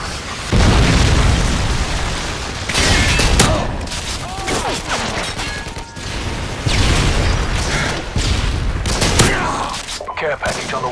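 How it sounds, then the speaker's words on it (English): A predator missile and heavy combat in a Modern Warfare 2 team deathmatch on the Scrapyard map bring loud, close booms, bursts of gunfire and mechanical clatter, with voices heard among the noise. "Friendly predator missile inbound."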